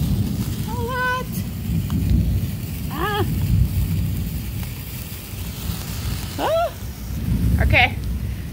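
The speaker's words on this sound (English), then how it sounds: "It's starting to rain." Rain falls outdoors in gusty wind during a July 4th fireworks session, a constant loud hiss broken by several short rising whistle-like tones and occasional voices.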